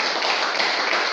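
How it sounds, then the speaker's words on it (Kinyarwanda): A church congregation applauds to praise God, a dense, loud wash of many hands clapping together without pause, steady and close. "dukomera Imana amashyi."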